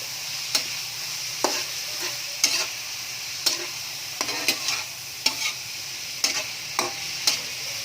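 Pancit noodles are stir-fried with garlic and onion, a soft background sizzle broken by regular scraping stirs of a utensil in the pan, roughly one stroke per second, close and alone without talk.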